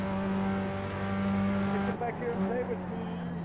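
Race cars roar past during a jump-car race as faster leaders close in, a steady engine drone with a passing whoosh partway through, heard from inside a car with a voice talking over it.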